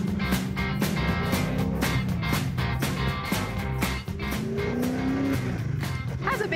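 A car accelerates hard from a standstill, its engine note climbing loud and close through a steady, rising roar, with people talking and exclaiming over it.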